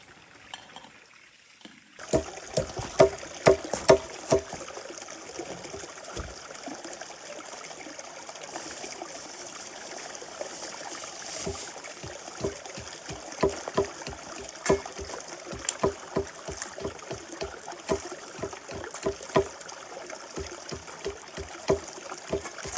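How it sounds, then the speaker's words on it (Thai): Steady rushing water from a waterfall deep in a forest, a constant broad hiss with scattered sharp clicks and taps close by, and no voices. "ฟังเสียงน้ำตก"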